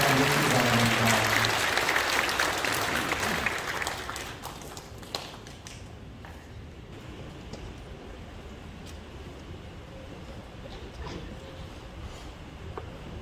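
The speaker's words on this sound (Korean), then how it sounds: "뜨거운 박수로 축하해 주시기 바랍니다" Warm congregation applause inside a church during an elders' and deacons' ordination service, loud and dense for about four seconds before fading into quiet room tone with a few stray claps.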